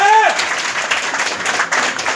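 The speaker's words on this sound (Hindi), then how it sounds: "प्लीज उनके लिए एक जोरदार ताली" An audience at a large business meeting claps loudly for a sponsor. The applause sounds like a dense, steady patter, and a voice ends just as it begins.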